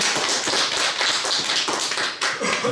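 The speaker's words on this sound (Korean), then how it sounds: "하나님께 영광의 박수 드리겠습니다." Church congregation applauding during a Wednesday worship service, dense steady clapping from many hands filling the room, loud and continuous with no talk.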